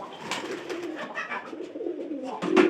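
A domestic pigeon coos softly in low, throaty pulses close by in a quiet loft, with a brief louder flutter near the end.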